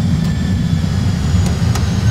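Jet engines of an Airbus A320 roar steadily in reverse thrust during landing, a dense low rumble heard from the cockpit with a couple of faint clicks on top.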